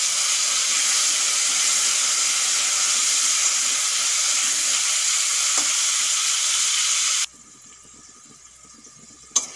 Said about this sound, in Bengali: এই একই তেলের ভিতরে আলুগুলোও ভেজে নেব।